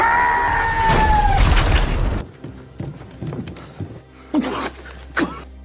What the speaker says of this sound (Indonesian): Ledakan besar pun kemudian terjadi,